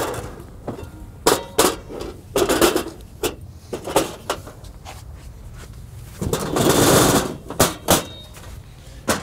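A cart ramp slides out of the back of a Ford Transit van, producing sharp metallic clanks and knocks followed by a longer scraping slide, close by, with no one speaking.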